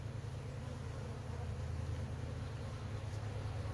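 Dense, steady buzzing of many honeybees at an opened hive, close and continuous with no pauses and no talking.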